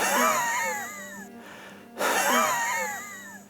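A person imitates asthmatic wheezing, a strained, whistling, moaning breath pushed out twice with a short pause between, loud and close, with no other sound.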